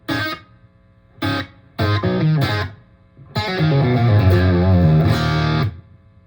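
A Revv D20 guitar amp tone with generous room reverb, played in short bursts of distorted chords and then a longer sustained passage, with audible reverb tails between phrases and no talking.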